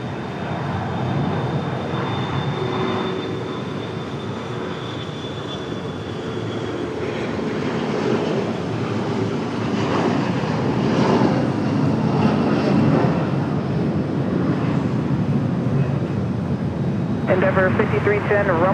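An Air France heavy airliner on final approach to land on runway 23 right at Raleigh-Durham airport, a broad steady engine roar that swells gradually, with voices talking over it.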